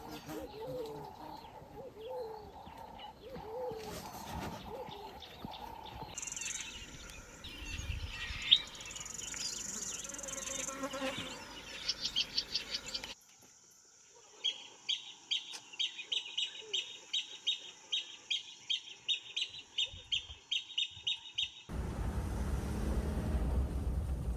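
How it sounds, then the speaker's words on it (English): African grey hornbill calling in Tarangire National Park, a series of repeated piping whistled notes in a steady rhythm, moderately near, among other bird chirps and cooing doves, with brief speech in places. "African Gray Hornbill."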